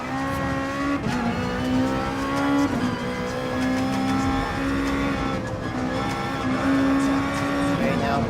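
GT race cars in Gran Turismo Sport passing Group 3 cars, with steady engine drone, shifting revs and some tire noise throughout, under a person talking.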